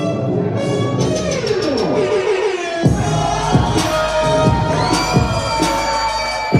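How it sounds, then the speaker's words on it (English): A wrestling crowd cheers wildly at a championship match, a loud sustained roar of voices with shrill shouts rising and falling throughout, backed by booming thuds. "And the crowd has come unglued."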